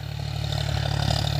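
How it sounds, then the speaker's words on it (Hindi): A John Deere 5045 D tractor working a field to form ridges for maize sowing, its engine giving a steady, pulsing low drone with a faint clatter, nearby and unbroken. "तो किस तरीके से जॉन डियर 50-45 डी ट्रैक्टर धार बना रहा है देख सकते हैं आप"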